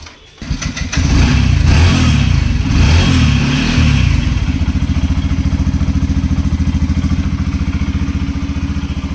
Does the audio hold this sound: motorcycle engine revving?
yes